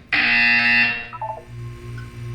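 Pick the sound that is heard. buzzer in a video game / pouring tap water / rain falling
buzzer in a video game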